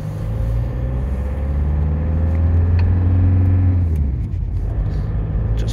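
A diesel Mercedes car drives along a neighborhood street, its engine giving a steady, smooth low rumble close by that stays constant throughout without talk.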